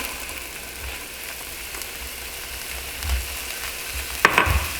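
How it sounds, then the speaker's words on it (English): Chopped onion frying in a pan for shepherd's pie sizzles steadily with no talk, while a few soft clatters of stirring and a sharper knock come near the end. "now I'm going to add my onion, my chopped onion"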